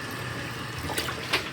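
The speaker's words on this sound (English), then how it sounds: "And then we're gonna put some water in there." Water pours into a measuring cup that holds gravy mix, a brief splashing trickle heard up close, with no talking.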